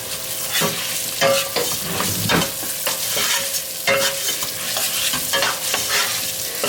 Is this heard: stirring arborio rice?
yes